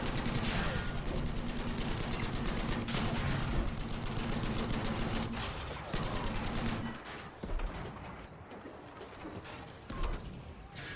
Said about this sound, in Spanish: Me encanta cómo se escucha los disparos en el blindaje